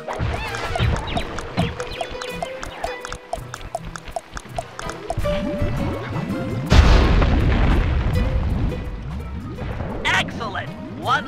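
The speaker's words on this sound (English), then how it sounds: "Place the dynamite when you get near the anchor, or kaboom!" Dynamite blows up a balloon anchor in the video game Sly 3, set over Venice: a sudden heavy boom lands partway through, with a rumbling tail, amid busy game effects and voices.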